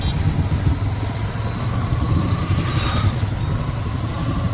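Dense highway traffic after rain, motorcycles and cars streaming past in a continuous close engine rumble with a brief whine rising in the middle, no voices standing out.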